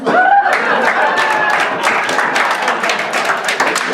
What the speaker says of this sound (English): Pause for applause.